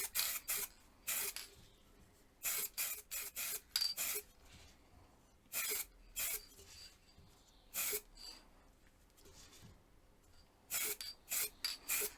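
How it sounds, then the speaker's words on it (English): Short bursts of rasping abrasion as sanding sealer is cut back on a wooden pear vase, each lasting a fraction of a second, in irregular groups with quiet pauses between, close up. "just removing some of that sanding sealer, cutting it back with some fine"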